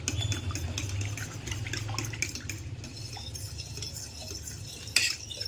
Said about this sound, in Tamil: முட்டையும் தேங்காய் பாலையும் நல்லா மிக்ஸ் பண்ணிடுங்க